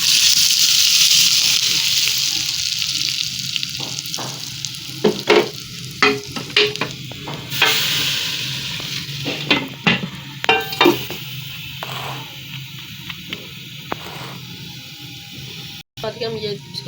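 Hot mustard oil tempering is poured over sabut mash and chana dal, setting off a loud sizzle that fades, followed by spoon clinks and stirring, with a voice talking.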